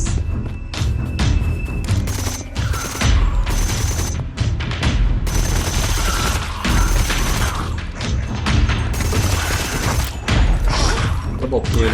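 In a zombie shooting video game, gunfire bursts in rapid loud booms and thuds, with dense volleys of shots running almost without pause.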